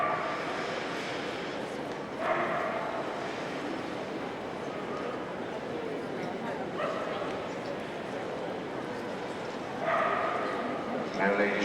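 Dogs yip and whimper in short scattered bursts at the Crufts show during greyhound judging, faint and somewhat distant beneath continuous announcer talk and crowd murmur.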